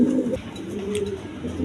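Soft, close cooing from a pair of white fancy pigeons, a low throaty coo rising and falling once over faint background noise.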